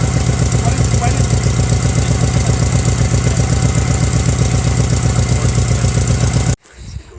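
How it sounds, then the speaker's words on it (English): A car engine idles with an exhaust leak near the headers, giving a loud, close, rapid rhythmic ticking and puffing pulse that runs steadily before cutting off abruptly near the end. "I'm fairly sure that's the source of my exhaust leak, right there."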